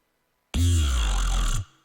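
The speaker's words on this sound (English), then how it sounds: "The phaser is a really nice tool because you can put it on zero rate" A steady synth tone through a phaser set to zero rate, with a fixed, hollow filtered coloring, sustained for about a second and then cut off, with no movement in the sweep.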